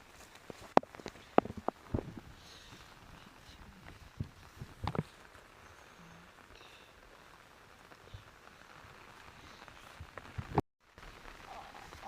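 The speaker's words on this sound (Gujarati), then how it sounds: "અને વરસાદ હજી પણ શરૂ જ છે." Rain falls outdoors in the Gir countryside as sparse, faint drops and scattered taps on surfaces, with a low ambient background and no voices.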